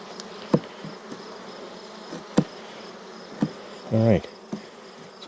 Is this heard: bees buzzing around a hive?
yes